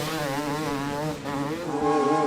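A motorbike engine at a forest hill climb revs steadily with a buzzing tone, dips briefly, then climbs to a louder, higher pitch near the end, with no talk over it.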